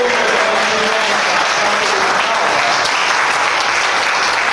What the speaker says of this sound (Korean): 이렇게 한번 이렇게 박수로 영광 한번 올려드리십시오.